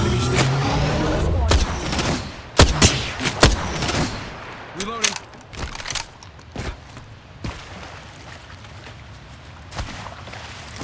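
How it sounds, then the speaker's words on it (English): Rapid gunfire from the video game Apex Legends crackles in scattered bursts of sharp shots, loud at first and then thinning into sporadic distant pops. "Bad boys are shooting at me."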